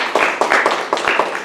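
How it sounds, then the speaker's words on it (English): A classroom audience gives a professor a short round of applause, a handful of people clapping in uneven bursts with distinct individual claps close by, over roughly a second and a half. "Can we get a round of applause for the professor?"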